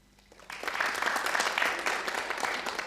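A comedy club audience breaks into applause after a short quiet start, a lively wash of clapping that swells quickly and stays strong to the end.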